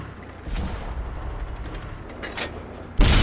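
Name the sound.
tank gunfire hitting ammo rack in World of Tanks video game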